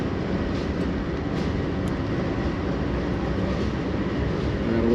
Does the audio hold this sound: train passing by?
yes